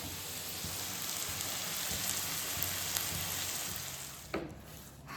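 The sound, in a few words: onions frying in a pan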